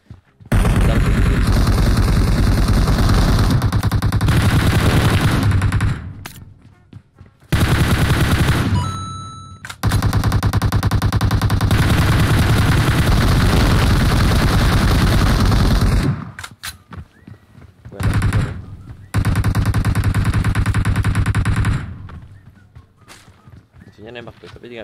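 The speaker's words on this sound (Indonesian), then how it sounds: "Nembak tuh, tapi nggak bisa nembak tembus ya." Loud, dense bursts of automatic gunfire from a shooter video game, long stretches of rapid fire broken by brief pauses, with some talk mixed in.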